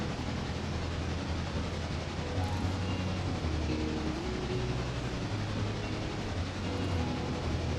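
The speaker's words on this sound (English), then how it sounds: "Set that aside for now and just watch the train." A train rolls along in the Railroader video game with a dense, continuous rumble and low engine drone, steady from start to finish with no talking.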